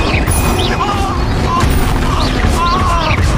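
Stupefy spell cast in Hogwarts Legacy, a loud burst of game combat with repeated whooshing, crackling magic and booming impacts over a constant battle din.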